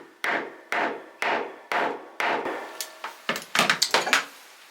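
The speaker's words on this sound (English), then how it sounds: "we'll hammer that through" A hand tool is hammered down onto a snap popper fastener, giving five evenly spaced, sharp metallic-wooden blows followed by a quicker cluster of lighter taps, close and with no talk.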